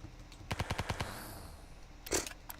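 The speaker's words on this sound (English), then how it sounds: "I just used the SMG there" Rapid burst of about six SMG shots in the video game Ancient Warfare 3, loud and close, followed after a pause by one more sharp report.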